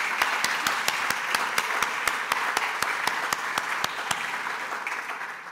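Audience applause at an academic symposium, a steady wash of many hands with distinct sharp claps punctuating it at a regular rhythm, loud and sustained before easing slightly at the end.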